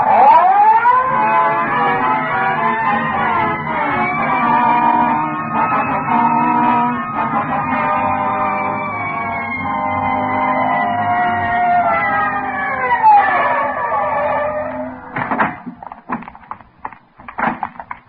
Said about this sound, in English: Red light siren.